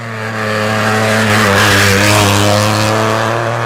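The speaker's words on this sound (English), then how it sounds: "Ross Hunter in the Peugeot 208" A Peugeot 208 rally car roars past at a night shakedown stage of the Mull Rally, its engine loud and revving hard as it sweeps close by, with no voices over it.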